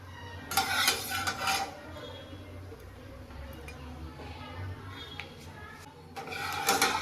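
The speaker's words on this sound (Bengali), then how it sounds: "কড়াই গরম হয়ে গেছে, আমি এবার সর্ষের তেল দিয়ে দিচ্ছি।" Mustard oil hits a hot wok over a village-style fire, with short bright sizzling bursts at the start and again at the end and a low, quieter rumble between them.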